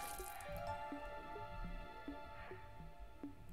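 Footsteps splash through water in the video game Everhood, a steady run of soft wet squelches and drips over sustained game music.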